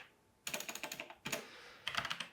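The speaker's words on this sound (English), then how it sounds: "Typing's letting me down now." Quick bursts of clicky computer keyboard typing while writing .NET API commands, three short runs of rapid keystrokes, close but fairly quiet, with no talk.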